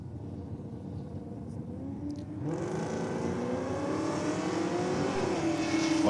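Holden Commodore drag race car accelerating hard down the strip, a loud rising engine roar that builds and climbs in pitch after a quieter start.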